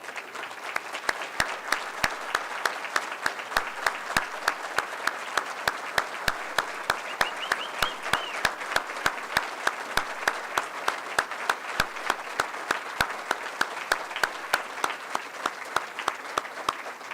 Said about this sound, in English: I'd like everybody to give them one round of applause and say thank you